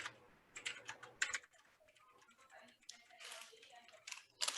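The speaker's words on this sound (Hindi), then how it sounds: "मैं नया टेक्स्ट टाइप करता हूँ" Typing new text on a computer keyboard in Adobe Illustrator, heard as close, irregular bursts of clicking keystrokes with brief pauses between runs.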